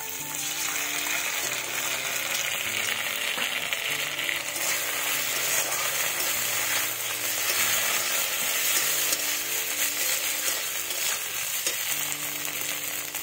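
Ground ginger, cumin and chilli paste fries in oil for muri ghonto, a constant soft sizzle with occasional stirring scrapes, fairly quiet and close, faint tonal hum in the background, no speech.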